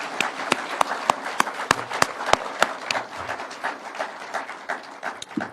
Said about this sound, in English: I think these good people deserve a clap,